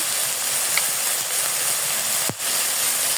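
Garlic paste goes into hot oil with mashed green chilies for a taki fish and mocha fry, a loud steady sizzling hiss close by, with one brief sharp clack partway through and no talking.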